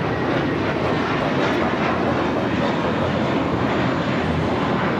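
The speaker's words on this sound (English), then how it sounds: "This is American Airlines Flight 32 taking off to JFK on the A321." An American Airlines Airbus A321 takes off from LAX, a loud, dense, continuous engine roar with steady broadband rush throughout and no voices.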